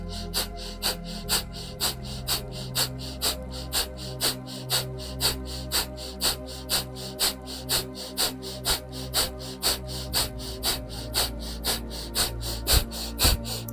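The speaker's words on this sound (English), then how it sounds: "really allow yourself to be all in with this breath of fire" Rapid, rhythmic breath-of-fire panting during a Kundalini yoga kriya, a steady train of sharp nasal exhalations repeating about three times per second over a continuous musical backdrop.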